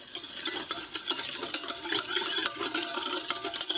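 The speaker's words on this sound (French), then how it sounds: "dans la casserole, je mets le sucre et j'ajoute l'eau. Je mélange comme il faut." Sugar and water are stirred in a saucepan, with a utensil scraping and clinking against the pan in quick, irregular strokes, close and fairly loud, with gritty swishing between the taps and no talking.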